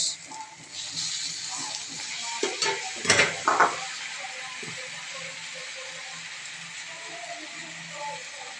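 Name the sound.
stirring and frying noodles in a pan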